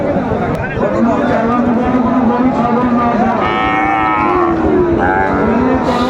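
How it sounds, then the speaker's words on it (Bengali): Cattle, including Sahiwal bulls, moo loudly and repeatedly at a livestock market in Cumilla, several long lowing calls over a noisy crowd with chatter and voices in the background. "গরু ছাগল"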